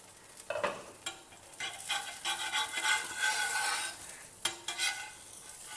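Dosa sizzling on a cast iron tava over low flame, a continuous bright crackling hiss with irregular sharper spits and pops, close and fairly loud, no voices.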